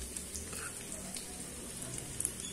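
Chopped large onions sautéing in oil with bay leaves for a vegetable paya curry, a soft continuous sizzle with faint crackles and occasional stirring scrapes, steady and moderately quiet throughout.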